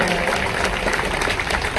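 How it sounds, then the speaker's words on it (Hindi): Crowd at a BJP political rally applauds, a brief, continuous wash of clapping with no clear voices. "आपकी तालियों से ऊर्जा आनी चाहिए।"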